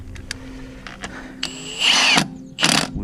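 A heavy-duty power tool rated up to 1,900 newton metres is used for tightening during a front brake pad replacement on an Audi A2, VW Polo, Seat Ibiza or Skoda Fabia, giving two loud, close, short whirring bursts after some scattered clicks.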